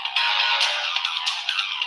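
A phone ringtone trills continuously and fairly loud for about two seconds with a repeating pulsing pattern, no voices over it.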